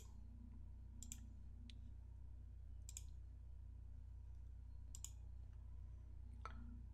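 Computer mouse clicks while graphing exponential functions in an online math homework program, a few sharp, quiet clicks spaced about two seconds apart over a steady low hum.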